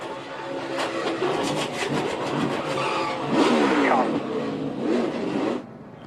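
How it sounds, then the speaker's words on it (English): A NASCAR Sprint Cup race car at the Toyota Owners 400 loses grip as its wheels break loose, engine roaring and revving under crowd and track noise, with a commentator talking over it as the car spins around. "You hear the wheels start to break loose and around it goes."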